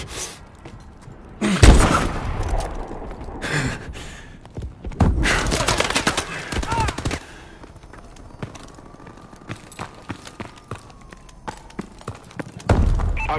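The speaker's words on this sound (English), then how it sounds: "Suppressive fire." Gunfire and heavy thuds from a Call of Duty: Advanced Warfare domination match: loud bursts and sharp cracks at irregular intervals, with quieter scattered shots between them.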